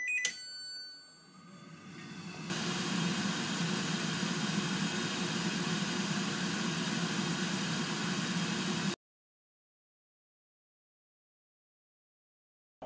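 Cosori air fryer switched on and running, a steady whooshing fan with a low hum, loud and constant for several seconds before stopping abruptly into silence.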